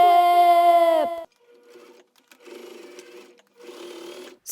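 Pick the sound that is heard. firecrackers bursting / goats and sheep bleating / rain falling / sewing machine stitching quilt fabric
sewing machine stitching quilt fabric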